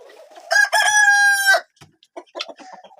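On a snowy winter farm, a rooster crows loudly and close for about a second, followed by softer scattered clucks from the chickens nearby.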